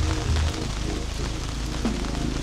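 Rain falling steadily on a tent awning, a continuous close hiss of drops with no talk over it.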